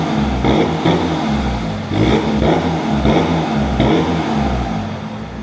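A Volkswagen Scirocco 2.0 TDI diesel engine revs before a downpipe is fitted, a deep, fairly subtle tone with little turbo whistle, rising in several repeated bursts at close range with no talking.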